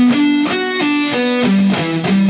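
Electric guitar playing the first solo of a black metal track, a close, steady run of sustained notes stepping up and down in pitch, with no talking.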